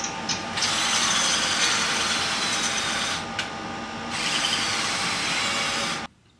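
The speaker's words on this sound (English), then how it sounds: "I'm going to be drilling for a while." A power drill fitted with a brick bit grinds continuously into brick, loud and steady with a couple of brief pauses, then stops abruptly.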